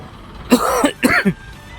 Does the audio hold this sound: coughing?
yes